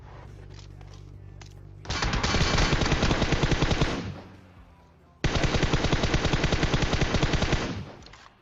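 Automatic gunfire in the video game PUBG Mobile: two long, loud bursts of rapid shots, each lasting about two to three seconds, separated by a brief pause, with a low hum before the first burst.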